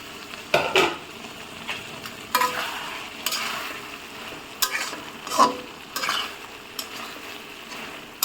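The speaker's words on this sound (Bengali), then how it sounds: "এর জন্য তরকারিটা খুব ভালোভাবে কষিয়ে নেবেন।" Tengra fish curry being stir-fried in a pan, with a soft ongoing sizzle under intermittent scraping and clinking strokes of a spoon against the pan, close and moderately quiet, no voices.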